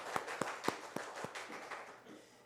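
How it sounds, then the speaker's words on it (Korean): A church congregation welcoming missionaries gives quiet applause, about eight distinct claps in a fairly even rhythm that fade out over two seconds, heard from a distance. "한번 박수로 우리 환영하겠습니다."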